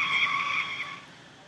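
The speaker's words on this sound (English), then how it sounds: "I'm going to turn hard and brake, and that'll send the car into a skid" A simulated car in a Google Earth driving game skids after hard braking at high speed, a loud sustained tire squeal that fades gradually over a second and a half.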